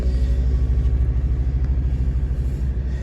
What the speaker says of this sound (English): that's why you can probably hear the turbo spooling up quite quickly